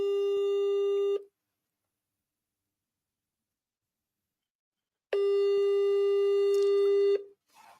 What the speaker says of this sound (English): Let me call him again.